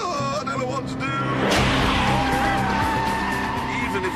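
A powerful Mercedes convertible spins its wheels, tyres squealing under a revving engine as traction control keeps cutting in, loud and close, with someone talking over it.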